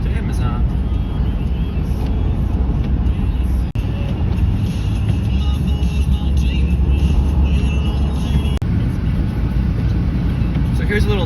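A car drives on snowy winter roads while it is snowing, giving a steady broadband road and engine rumble throughout. A voice talks over the drone.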